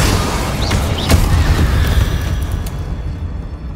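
Incendio fire spell cast in Hogwarts Legacy, a loud roaring burst of flame with a sharp crackle near the start, followed by dense rumbling that slowly fades.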